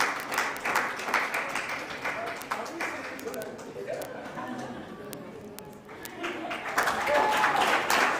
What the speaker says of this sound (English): Let's continue to clap for her.